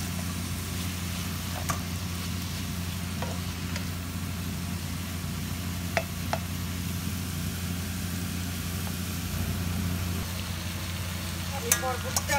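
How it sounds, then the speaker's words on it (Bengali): Cabbage frying in a little oil is stirred in a pan, with faint sizzling under a constant low background hum and a few sharp scrapes of the spatula near the end. "একটু নেড়ে নিব।"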